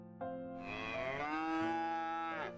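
A long, loud drawn-out moo rises and falls over about two seconds, alone and close.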